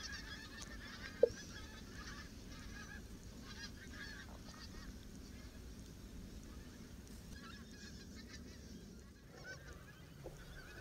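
Geese honk faintly and at a distance near Wells in North Norfolk, with a flock feeding on ploughed farmland. The calls are scattered and low-level against steady outdoor ambience, with one brief sharp sound near the start.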